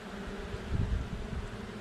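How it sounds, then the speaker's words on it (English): Honeybees buzz around an open hive during a February inspection, a dense, soft, continuous hum with a brief louder swell as bees pass near. "That's a lot of bees."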